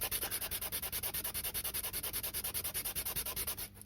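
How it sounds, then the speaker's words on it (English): Fast, steady back-and-forth sanding strokes on an HO slot car motor part, close up, scraping in an even rhythm of several strokes per second with no talking. "So back to a bit more sanding."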